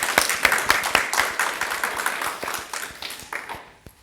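A congregation in a Korean Presbyterian church claps during a service, producing a burst of many close, sharp claps that thin out and fade over a few seconds.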